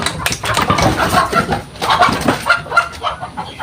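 Chickens cluck in a busy, overlapping chorus, steady and fairly close, with some mechanical hum underneath.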